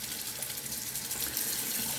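Tap water runs steadily into a sink during a rinse after shaving, a continuous close splashing flow with no voices.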